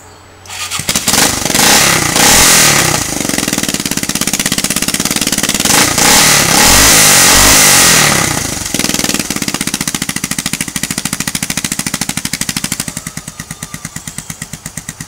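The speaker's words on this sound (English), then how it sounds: "I'll go ahead and start it up, let you see how it sounds" An ATV fitted with a homemade straight pipe exhaust starts up close and loud, roaring through several seconds of raw, rapid-firing revs before dropping to a choppy, pulsing idle.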